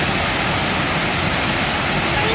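Steady, loud rush of a waterfall, a dense unbroken roar of falling water heard up close and alone.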